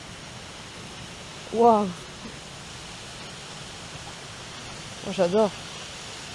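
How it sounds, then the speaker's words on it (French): A waterfall at a private onsen in Osaka gives off a constant, soft wash of falling water beneath a woman's brief delighted exclamations. "Avec le bruit de la cascade en plus."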